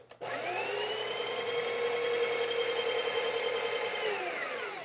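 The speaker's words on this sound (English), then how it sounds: "whenever I change my grind size on my Bravo Vista Pro, built-in grinder, I like to run it whenever you're going down" A Bravo Vista Pro coffee machine's built-in grinder starts up and runs as a steady motorized whir for several seconds, then winds down, close and loud with no talking.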